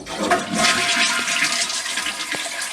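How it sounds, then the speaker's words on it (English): A toilet flushing while its tank is held open to drain during cottage winterizing, a loud continuous rushing gush of water from start to finish. "we're going to drain the water from the toilets and get that situated"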